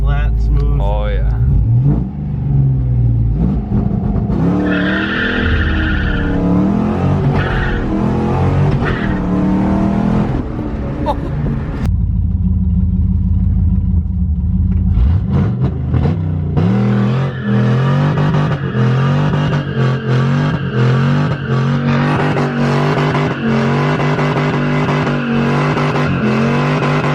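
From inside the cab, a 6.0 S10 drag truck pulls hard through its gears, the engine rising in pitch, dropping at each shift and climbing again. The engine stays loud and close the whole time, and people talk under it.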